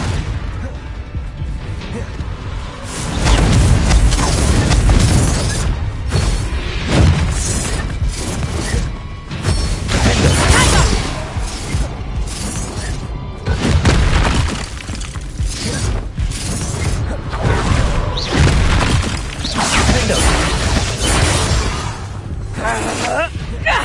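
Bombarda spell explosions in the video game Hogwarts Legacy, loud repeated blasts and shattering crashes with whooshes between them, under shouted spell names and talk.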